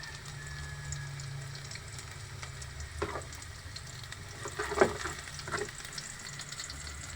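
Garlic sautéing in a pan until golden for a mung bean stew with squash flowers, a soft crackling sizzle under a low hum, punctuated by a few stirring scrapes, close but fairly quiet with no one talking.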